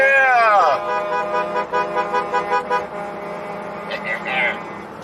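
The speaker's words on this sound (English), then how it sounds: "Oh, wait, I shouldn't honk my horn." A car horn blares one long, loud blast beside a passing trucker convoy, followed by a series of quick rhythmic honks and a later horn call, while people talk nearby.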